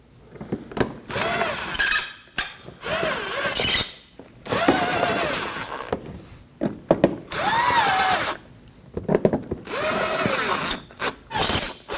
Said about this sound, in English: We can install the screws into the front side of the fender